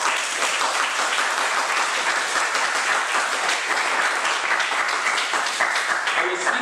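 Audience applause for Toastmaster Y.S. Lee at a Toastmasters evaluation contest, steady dense clapping from a room full of listeners sustained evenly throughout, with no voices rising above it.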